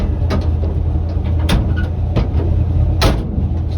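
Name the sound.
door of a 1961 Chevrolet C10 truck closing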